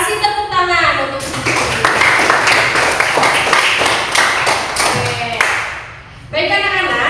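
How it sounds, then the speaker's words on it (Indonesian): A school class claps hands together, a dense burst of applause from students in a classroom lasting several seconds, with talk before and after. "Kasih tepuk tangan untuk"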